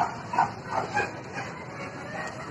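Dogs at an outdoor dog park give a few short, sharp barks and yips early on, moderately distant, then fade into a low hiss of background noise.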